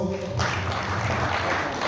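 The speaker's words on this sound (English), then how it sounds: "Another round of applause." Conference audience applauds at the close of a panel on government, capital and networks, a dense, loud burst of clapping starting abruptly and holding steady.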